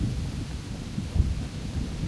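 Steady rain and low rumbling thunder fill a stormy scene in the medieval video game Kingdom Come: Deliverance, a dense continuous wash with a soft deep rumble and no talking.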